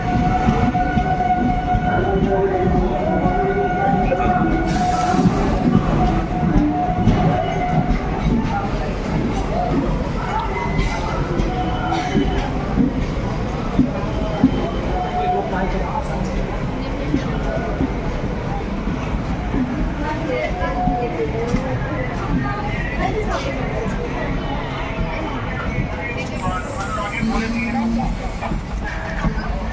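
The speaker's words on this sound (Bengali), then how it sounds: "দেখতে পাচ্ছেন প্ল্যাটফর্মে প্রবেশ করলো গাড়ি" The Krishnanagar City–Azimganj Junction passenger train rumbles steadily into platform one at Berhampore Court railway station, wheels clattering along the rails, with a few announcements and voices talking over it.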